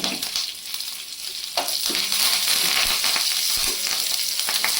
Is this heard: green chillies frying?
yes